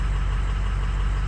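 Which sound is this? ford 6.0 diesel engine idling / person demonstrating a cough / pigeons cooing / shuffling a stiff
ford 6.0 diesel engine idling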